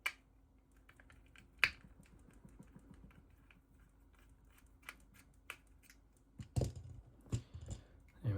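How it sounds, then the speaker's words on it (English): Two small screws are backed out of the circuit board inside an IKEA smart plug's plastic housing: faint scattered ticks and clicks of a screwdriver over a quiet hum, ending in a few louder handling knocks and clatters. "So let's undo those screws"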